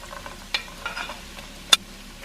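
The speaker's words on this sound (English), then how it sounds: "we gotta cook our chorizo now" Vegan chorizo cooking in a pan, a low quiet sizzle broken by a few sharp scraping stirs and clicks, close with no talk.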